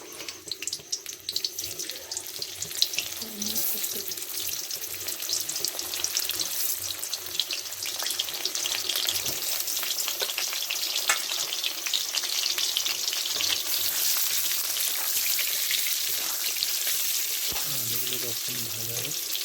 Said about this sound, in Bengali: এবার এই তেলেতেই আলুটা ছেড়ে দেবো। এই আলুগুলো দিয়ে দিচ্ছি।